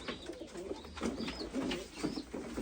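Pigeons coo in a loft, soft rolling calls repeating in overlapping bursts close by, with no voices over them.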